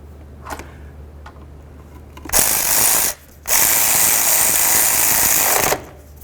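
A power tool tightens exhaust manifold bolts on a 2009-2020 Dodge Journey in two loud, close bursts of rattling whir. The first runs about a second, and after a brief pause the second runs nearly three seconds. Faint clicks come before them.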